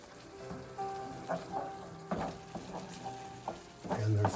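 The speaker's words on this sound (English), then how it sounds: "we're going to let this curry paste cook in with this." Massaman curry paste fries in a pan with coconut, giving a steady hissing sizzle broken by irregular scraping stir strokes close by.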